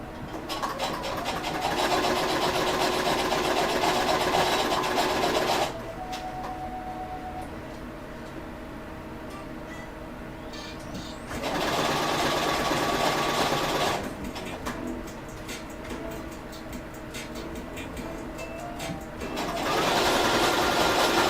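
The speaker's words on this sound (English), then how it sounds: "sewing machine, like a shoe cobbler one" A cobbler-style sewing machine with a swivelling head stitches small cosplay costume pieces, running in loud continuous bursts of several seconds that stop and restart, with a quieter motor hum between runs.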